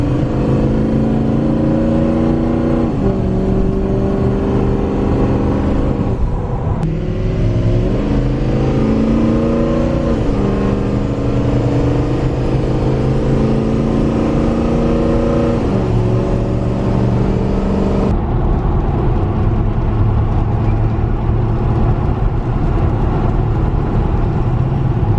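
Inside a 2005 Ford Excursion diesel fitted with sound deadening, a steady engine and road drone fills the cabin while driving, its pitch climbing and dropping at several gear shifts.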